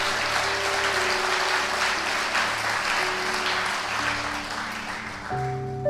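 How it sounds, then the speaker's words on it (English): Audience applause for Reverend Jeremy Mahood at a motivational talk: steady, full clapping from a crowd throughout, with sustained musical tones underneath. "give him a round of applause."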